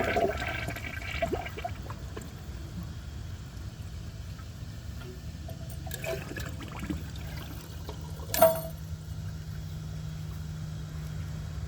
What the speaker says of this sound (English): I'm going to give it another full flush and see if it can get it the rest of the way through